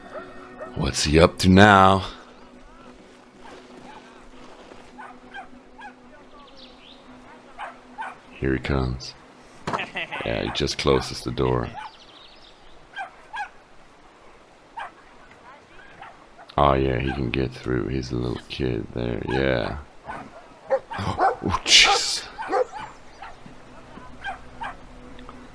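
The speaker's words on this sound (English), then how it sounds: "That is a huge dog." A huge dog in the video game Brothers: A Tale of Two Sons barks, yips and whimpers in loud bursts separated by quieter gaps, while someone talks over the gameplay.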